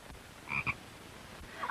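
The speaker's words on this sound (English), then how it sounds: "Oh, a frog!" A frog croaks in two short bursts close by in a quiet indoor setting, with a faint stir of sound just after.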